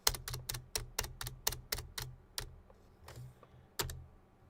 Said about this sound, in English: Good old typing. Isn't this fun?